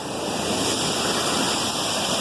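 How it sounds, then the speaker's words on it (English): Mountain creek water rushing over a flooded hiking trail on the Mt. Whitney route, a continuous close, broadband roar of flowing water with no voices. "I just crossed the creek right now, but the whole trail is underwater right here."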